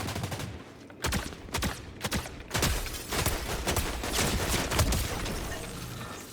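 Rapid volleys of gunfire from a Fortnite match, sharp repeated bursts and single shots crackling at close range over a dense background of game noise, with no talking.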